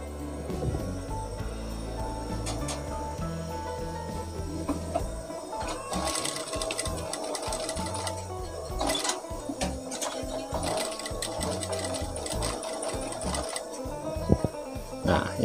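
Sewing machine stitching along the edge of a mini suit-jacket collar, a steady mechanical whir running throughout with brief pauses and some handling noise.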